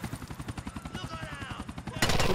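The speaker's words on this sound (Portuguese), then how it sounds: "Cadê esse helicóptero, velho?" A helicopter in the video game GTA: The Ballad of Gay Tony thumps with a fast, steady rotor beat, and a loud burst of gunfire-like noise breaks in near the end.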